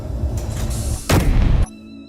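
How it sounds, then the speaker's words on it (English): A cannon fires in the video game Space Engineers: one loud, heavy synthetic blast with a broad roar that cuts off abruptly, followed by a short electronic tone, over a low rumbling game background. "There we go, there's the cannon working."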